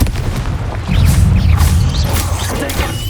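A Confringo blasting spell explodes in the PS5 game Hogwarts Legacy, heard as a loud, booming burst with crackling debris that lingers briefly, with some faint voice in the mix.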